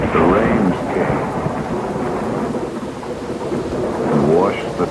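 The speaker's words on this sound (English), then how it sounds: "But the rains came" Steady heavy rain pours throughout with rolling rumbles of thunder swelling at the start and again near the end, a loud, dense storm with no voices.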